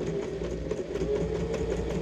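A sewing machine runs steadily, stitching fabric along a seam for a scissors holder. It makes a continuous close mechanical hum with a fast, even rattle and no pauses.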